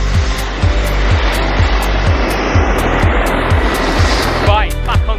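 Helicopter engine and rotor running on the Franz Josef Glacier, a loud steady drone with a regular rotor thump about twice a second, while a voice speaks over it.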